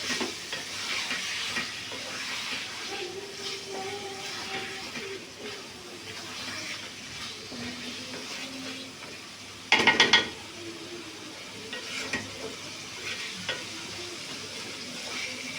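Chicken being stir-fried in oil in a pan gives a steady soft sizzle with scraping stirs, broken by a short clatter of a utensil against the pan partway through.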